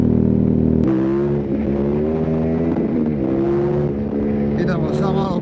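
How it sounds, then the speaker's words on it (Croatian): A 2018 KTM 1290 Super Adventure S motorcycle engine runs steadily loud and close, rising and falling through revs over a continuous mechanical drone. "ali uživajte u zvuku motora"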